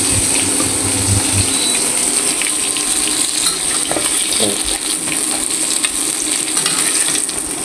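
Koi fish frying in hot oil, a loud, dense and continuous sizzle and crackle filling the whole stretch, close by, with occasional small clinks and no voices.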